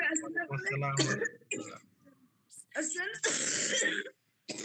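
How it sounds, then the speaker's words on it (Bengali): Close, harsh throat clearing and a few coughs from a person during an Arabic class, in short bursts mixed with brief speech. "ম্যাডাম তো কাশি লেগে গেছে"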